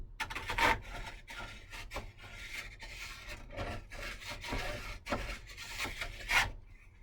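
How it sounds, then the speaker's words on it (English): Hand sanding along the wooden edges of a round piece, heard as close, irregular rasping strokes with brief pauses between them and no talking. "You gotta sand it good now because you're not gonna be able to get in there once I put those grates in"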